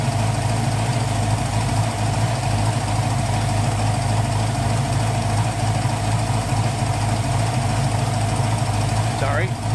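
A 1980 Pontiac Trans Am engine idles at about 800 RPM with a steady, loud, even low rumble throughout, and a voice comes in briefly near the end.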